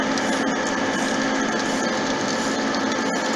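A cylindrical grinding machine works a brake shaft for an MB Q303 with a steady, dense, continuous grinding roar that stays loud and unbroken throughout.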